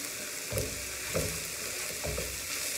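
Finely grated potatoes cook in a pan with a moderate, steady sizzle, broken by three soft utensil stirs or scrapes at regular intervals, fairly quiet and close, with no one speaking.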